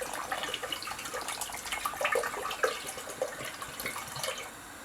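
Vinegar poured from a 500 ml bottle for pickling beetroot, a soft continuous trickling splash heard close and fairly quiet for several seconds.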